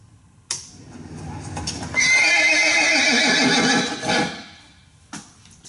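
A horse lets out a long, loud whinny that rises and trembles before fading, with a few hoof clops around it.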